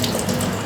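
Hot water rushing through a Nivona coffee machine during its self-cleaning rinse, a brief steady gushing, splashing flow.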